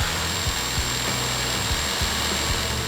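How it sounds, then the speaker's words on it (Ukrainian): An electric jigsaw cuts hard oak, a steady close-up motor whine with a rough buzzing saw blade running without pause. "Для цього ми скористаємося електролобзиком, включаємо його та направляємо пилку на лінію"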